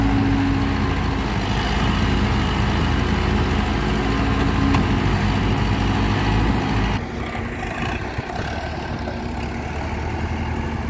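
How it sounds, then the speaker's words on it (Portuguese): Two backhoe loaders running together at a work site give a loud, continuous diesel drone; partway through, the engine note drops noticeably lower and stays there. "vocês que gostam de ver máquina trabalhando, tá aí. As duas retinhas trabalhando junto aí."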